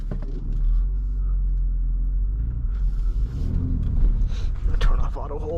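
A 2022 BMW X3 M Competition SUV rolls along a road, its low engine and tire rumble steady throughout with a slight swell of revving near the end, while people talk over it from inside the cabin.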